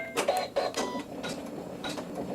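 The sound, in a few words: sewing machine stitching a seam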